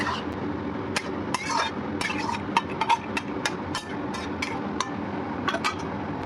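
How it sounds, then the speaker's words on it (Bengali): Shrimp and mixed vegetables are stirred in a cooking pan, with a spatula giving repeated metallic clinks and scrapes against the pan in an irregular rhythm, close and fairly loud, with no talking. "এবার সব উপকরণ ভালোভাবে নেড়েচেড়ে মিশিয়ে দিচ্ছি।"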